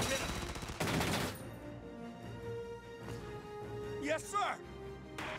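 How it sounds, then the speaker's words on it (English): Gunfire in the tactical war game Valkyria Chronicles 4: a dense burst of shots rattles at the start, then fades into quieter battle noise with whooshing effects and voice lines, mid-distance and moderately loud. "Shots fired."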